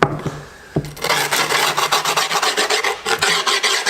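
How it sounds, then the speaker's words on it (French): A file rasps along the edge of grip tape on a skateboard deck in quick, even back-and-forth strokes after a couple of taps, loud and close with no talking. "Allez, hop, je lime directement."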